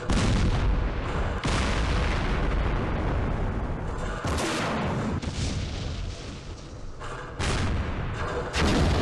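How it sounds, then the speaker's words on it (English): A recoilless rifle in the wargame Campaign Series Middle East fires several heavy, booming shots that roll out over continuous battle noise, with no talking. "Oh, another recoilless rifle."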